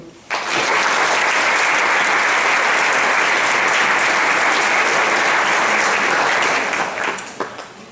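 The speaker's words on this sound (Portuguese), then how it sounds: "pedia uma salva de palmas para os dois apresentadores" Loud, full audience applause for two student presenters at a school Holocaust remembrance concert, starting abruptly, holding as a dense continuous roar of clapping, then tapering off near the end.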